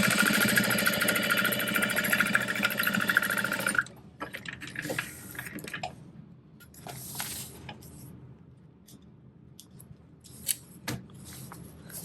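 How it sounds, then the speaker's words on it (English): A sewing machine basting an Elora backpack makes a loud, continuous mechanical whir for about four seconds, then stops, leaving quiet scattered clicks and handling noises. "I'm just gonna go ahead and baste it while I'm here."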